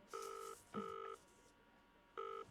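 A phone dials a call with three bright touch-tone beeps. The first two come close together, and after a short gap the third follows, fairly faint against a quiet background.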